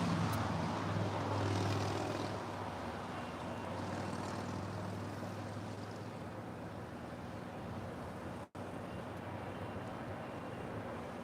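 A Cargolux Boeing 747-8 arriving from Anchorage lands on runway 25 left at LAX, heard as a steady broad jet rumble, heavier and lower in the first two seconds before settling into a constant distant roar, with a brief dropout near the end.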